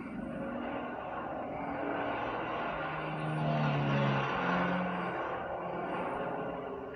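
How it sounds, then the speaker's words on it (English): A small plane carrying a crew climbs into rugged mountains on a trout airdrop flight, its engine giving a steady, continuous drone that swells slightly midway, with no talk over it. "With the crew on board, the flight into the rugged mountains is underway."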